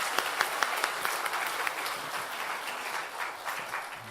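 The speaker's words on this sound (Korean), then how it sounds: "우리 사랑하는 주일학교 학생들 축복의 박수를 한번 해주시길 바랍니다." A church congregation claps in blessing for Sunday school students during a worship service, a moderately quiet, slightly uneven patter of hands with a few sharper individual claps standing out.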